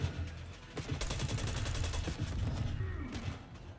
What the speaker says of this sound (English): someone shot me coming from behind